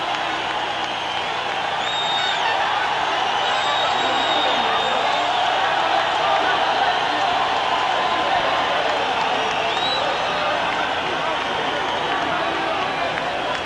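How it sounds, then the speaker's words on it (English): Boxing arena crowd roaring steadily as Julio Cesar Chavez climbs into the ring, a dense, continuous wall of cheering and shouting with no letup, loud and sustained throughout. "and the crowd erupts."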